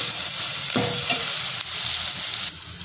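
A spoon scrapes and stirs spices through a pot of fish soup over a steady background sizzle, with a few soft clinks, close by and fairly loud.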